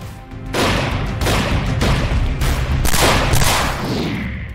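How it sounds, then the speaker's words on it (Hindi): Loud bursts of rapid gunfire, some 18 to 20 rounds, in several long volleys, close and harsh, with no talking. "गार्ड नरेंद्र सिंह और स्कूटी सवार हेमराज पर करीब 18 से 20 राउंड गोलियां बरसाते हुए नजर आ रहे हैं।"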